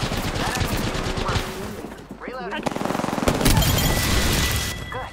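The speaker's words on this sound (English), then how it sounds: "There's someone shooting me." Rapid automatic gunfire in the Apex Legends video game, with bursts of shots and booming impacts close and loud, mixed with game effects and a voice talking over it.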